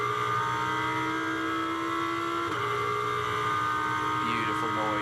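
A GT race car engine roars at the Nürburgring during GT World Challenge Europe pre-qualifying, a loud steady high-revving drone with a pitch shift near the end while a commentator talks over it.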